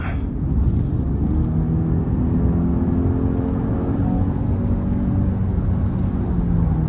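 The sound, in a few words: 2024 Genesis GV80 2.5T engine revving, accelerating in sport mode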